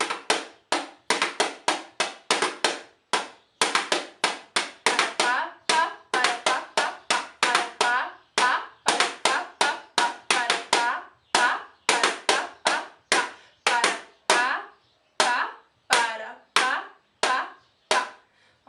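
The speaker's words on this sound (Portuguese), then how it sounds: "a sequência do congo, que é um pouquinho mais complicado do que aquilo que a gente fez agora no começo, né, o repique, seria esse aqui" A homemade hand drum is struck in the Afro-Brazilian congo repique rhythm, a close, dry series of sharp slaps in quick repeating groups with brief pauses between phrases.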